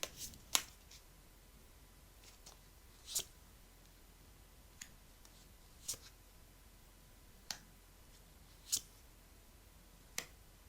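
Tarot cards are quietly shuffled and drawn during a reading. Soft, sharp card snaps and flicks come alone every second or two over faint, steady room hiss.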